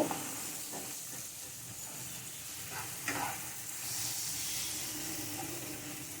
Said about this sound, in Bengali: মাশরুমটা দিয়ে মাশরুমটা ভাজা হওয়া পর্যন্ত নাড়ব